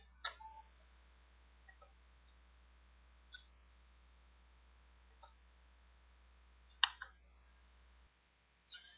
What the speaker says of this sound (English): and then I'll click OK